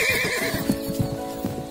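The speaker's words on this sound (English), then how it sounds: "I love to ride on the horse." A horse neighs with a rising and falling whinny while its hooves clip-clop in an irregular rhythm, both close and prominent over a musical background.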